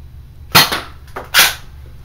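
A Nerf Elite Sharpfire dart blaster fires two sharp, snappy shots with a short pause between them, each followed by a brief clatter, close by and otherwise quiet.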